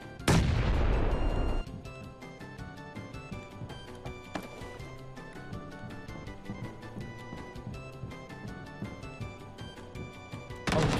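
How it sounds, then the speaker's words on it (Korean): Gun being drawn in PUBG, heard as a sharp burst up front under dense game noise and music, followed by a constant busy background hum. "아, 총 꺼낸 소리."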